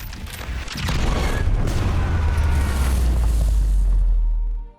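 A cannon blows up in place in a battle scene from a film about the Ottoman siege of Constantinople, a heavy sustained boom and roaring blast that swells, rumbles for several seconds, then cuts off.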